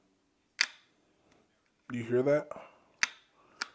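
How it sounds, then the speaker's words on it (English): A Powerbeats Pro 2 case gives sharp, close clicks as its magnet draws an earbud into place and the lid closes: one crisp snap, a brief spoken question, then two more quick clicks. "from the magnet drawing it in and then the case closing"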